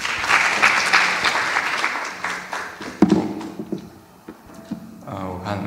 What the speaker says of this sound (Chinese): 那我们再一次用热烈的掌声